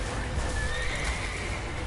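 Horse neighing and whinnying in The Witcher 3, a loud, continuous call over hooves clip-clopping and dense game action noise throughout.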